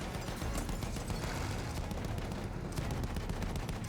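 Rapid bursts of machine gun fire in the video game Battlefield 1 crackle continuously under dense noise, a steady rattle of automatic shots without pause.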